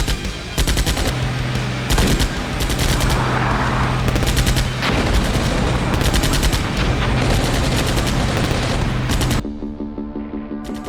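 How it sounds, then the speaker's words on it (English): Sustained gunfire during an infantry assault in the Armored Brigade II war game, loud close bursts of automatic fire with repeated sharp shots and booms, thinning into a quieter stretch at the end. "my guys come under fire as soon as they dismount"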